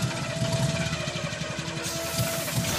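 A car engine in the video game Friday the 13th runs with a rough, steady, pulsing drone that stays loud and even for nearly three seconds, with no voices over it.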